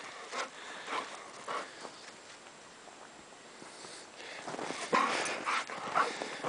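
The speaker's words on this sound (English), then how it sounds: "Hey, whose dog is that?" A dog moving about outdoors on snow and ice, giving faint scattered whimpers and shuffling sounds at a distance, growing a little louder and busier toward the end, with no talk.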